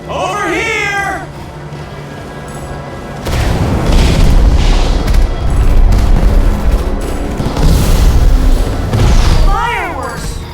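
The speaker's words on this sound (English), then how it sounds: "Fireworks!" Fireworks burst in the video game Minecraft: Story Mode, episode 4, a string of loud, booming explosions crackling one after another, framed by shrill whining sounds at the start and end.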